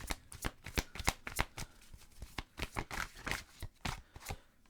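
Oracle cards are shuffled by hand for a heart chakra tarot reading, giving a quick run of crisp riffling slaps and flutters at close range, with no talking.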